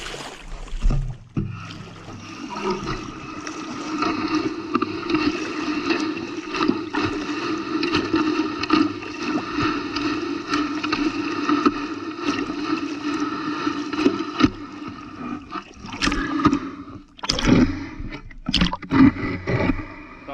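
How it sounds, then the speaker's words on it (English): A rake dragged through tidal mud while digging for clams, giving a steady, close scraping and sloshing texture that runs continuously before a few sharper knocks and scrapes near the end; no voices. "we're just gonna rake the mud here"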